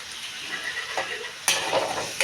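Diced potatoes fry in an oil-filled pan for sabudana khichdi, giving a steady soft sizzle with stirring scrapes and two sharp utensil clinks against the pan.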